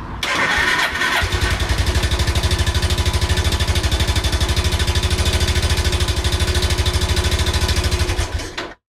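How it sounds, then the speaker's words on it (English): A Suzuki GN250 motorbike engine cranks and fires, then settles into a fast, steady thumping run close by, its even pulses continuing for several seconds before cutting off abruptly. "So the thing that made the best noise was my Suzuki GN250 motorbike"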